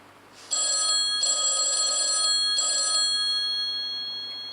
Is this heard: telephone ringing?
yes